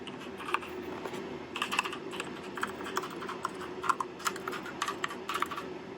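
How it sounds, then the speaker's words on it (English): Steady, fast typing on a Redragon Surara K582 keyboard, with many soft clicks in irregular bursts close to the mic over a low background hum. "here's a sound of the keyboard here."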